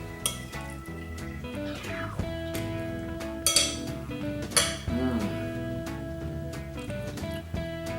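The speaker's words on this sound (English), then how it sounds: "To serve the gumbo, you want to serve it over white rice" Dishes and cutlery clink and clatter while spicy sausage and seafood gumbo with andouille and okra is served over white rice, with repeated sharp metallic and ceramic knocks ringing out close by.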